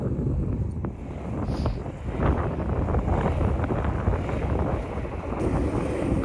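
Wind buffets the microphone outdoors during a skateboarding session, a steady, loud low rumble that gusts throughout with no talking.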